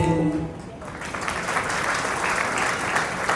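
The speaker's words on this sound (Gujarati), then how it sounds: "જોરદાર તાળીઓથી સુશીલાબેન અને જયંતિભાઈને વધાવીએ" A family audience at a 50th wedding anniversary celebration breaks into warm, sustained applause right after a brief spoken line.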